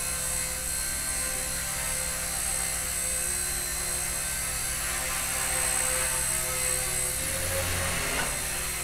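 A Blade mCPX radio-controlled micro helicopter hums with a steady, high rotor whine, then its pitch sags and surges near the end as the throttle is snapped back and pushed up again. No one speaks.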